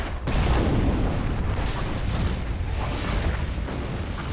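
Fire and air magic spells cast in the video game RuneScape Dragonwilds: a sustained, roaring whoosh with a booming onset and a bright flare near the end, loud and steady for several seconds.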